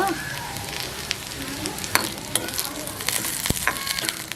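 Curry leaves fry in hot oil over a low flame for a Tamil vegetarian meal, giving a steady close sizzle with scattered crackling pops and spits throughout.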